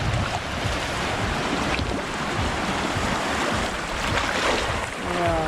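Waves on the beach at Las Salinas in Ibiza, a continuous rushing wash of surf mixed with wind buffeting the microphone, loud and steady with no voices.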